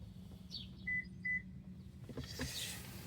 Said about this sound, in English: you're going to hear 2 beeps.